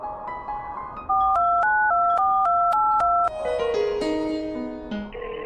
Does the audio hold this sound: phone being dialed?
yes